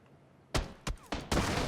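Four sharp gunshots ring out in a video game shootout, arriving irregularly with short pauses between them, fairly loud and close against a quiet background.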